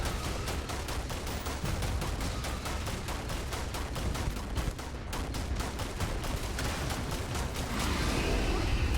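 Rapid automatic gunfire aimed at Terrormorph creatures during an invasion in Starfield, a steady, evenly spaced stream of loud shots with barely a pause from start to finish.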